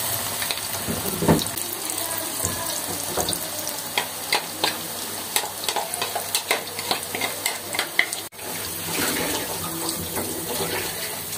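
Pakoras of batter dropped into hot oil in a home kitchen sizzle and crackle steadily, with scattered clinks and scrapes of utensils throughout.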